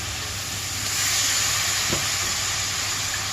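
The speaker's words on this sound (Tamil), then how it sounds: "இப்போ இந்த மசாலா நல்லா எண்ணெயில் வதங்கட்டும்" Masala and mutton fry in oil with a steady, close sizzle and crackle for a mutton gravy, constant and loud throughout, with a brief stir partway through.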